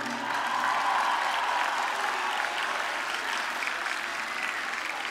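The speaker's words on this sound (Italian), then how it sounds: "fate un grosso applauso, ma davvero, davvero" A large crowd at a live concert in Milan claps for the orchestra, a broad, sustained roar of applause that holds steady throughout, heard from within the audience with no clear voices.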